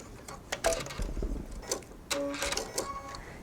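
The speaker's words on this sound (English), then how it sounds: "I'm just sewing just on the inside edge here and all the way to the hem" Sewing machine stitching a half-inch seam down the inside edge of a two-part jacket sleeve to the hem, short uneven bursts of mechanical whirring and ticking with brief pauses, close and moderately quiet.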